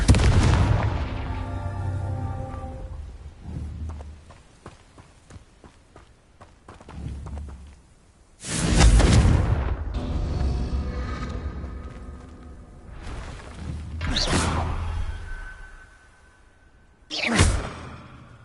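Confringo explosive spell blasts from a Hogwarts video game erupt as several loud booming bursts with whooshing tails, spaced irregularly between quieter stretches of footsteps and movement.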